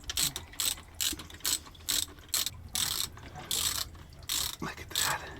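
Rhythmic ratchet clicking in short repeated bursts, close and loud, as bolts are screwed down on a boat's water pump, each burst separated by brief pauses.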